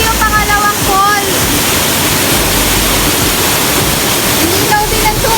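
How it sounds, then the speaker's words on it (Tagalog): Kilangin Falls in Liliw, Laguna, a loud constant roar of falling water filling the whole scene, with excited voices and exclamations heard briefly over it at the start and end. "oh, ito yung pangalawang falls."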